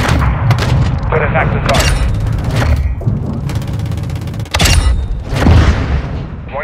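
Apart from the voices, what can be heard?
artillery gunfire in a video game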